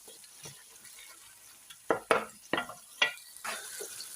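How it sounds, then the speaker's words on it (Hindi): Tomatoes and chillies fry in masala in a pan, heard as a soft, faint sizzle broken by several sharp scraping and stirring strokes, with no voices. "अब हम टमाटर और मिर्चों को अच्छे से भून लेंगे।"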